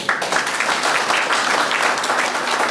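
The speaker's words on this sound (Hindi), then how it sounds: "चलिए अगर ऐसे लोग हैं समाज में तो इनके सम्मान में तालियां हो जाए।" Enthusiastic applause from an indoor crowd, steady dense clapping throughout the short stretch, loud and close with no voices over it.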